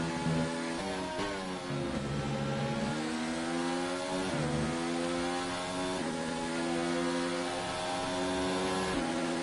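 Race cars in a racing game, the Britain round, taking very fast S-bend corners: loud, sustained engine whine rising and falling as the engines rev up and shift, close and continuous with no talking.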